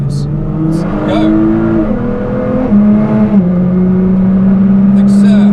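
A race car with a race transmission accelerates hard around the Cadwell Park circuit, its engine note climbing loud and close through successive gear changes, heard from on board.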